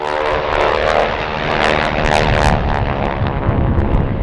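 Propeller aircraft engine droning steadily and loudly at the Rand Air Show in Johannesburg, heard from a seated position in a Savage Bobber light aircraft, with a continuous throbbing roar throughout.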